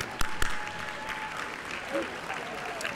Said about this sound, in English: So let's give her a round of applause for helping us.